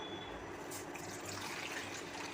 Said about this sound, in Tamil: ஒரு செம்பு தண்ணி ஊற்றுவோம்